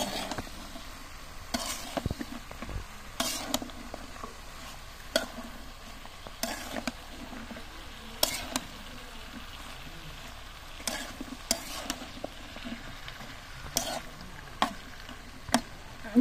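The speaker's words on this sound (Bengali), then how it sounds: "এখন ভাজি হইতেছে পেঁয়াজের পাতা" Spring onion leaves, beans and potato frying in a pan, heard as a soft steady sizzle with repeated sharp scraping clicks of a spatula stirring at irregular intervals, close and fairly quiet, with no talking.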